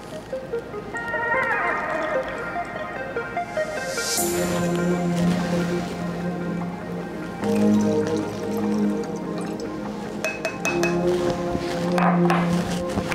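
About two ounces of Reka vodka pours into a glass for a vodka seltzer. Close, trickling liquid rises steadily in pitch as the glass fills, broken by a few clinks and drips, with no talking.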